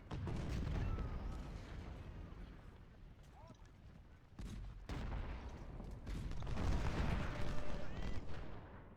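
Artillery fire booms repeatedly in the strategy game Distress Call, a dense, rumbling barrage of distant blasts that swells and fades over several seconds, with a voice talking over it.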